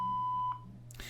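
A single steady answering machine beep sounds for about half a second, loud and clean, followed by a brief soft click and faint line noise.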